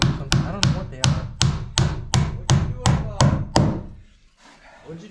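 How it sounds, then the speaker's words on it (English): Hammer blows drive nails or drywall screws into a wooden door frame being built in a tiny house, about ten sharp, evenly spaced close whacks before a pause, with faint talk afterward. "I think these are like drywall screws or nails or something."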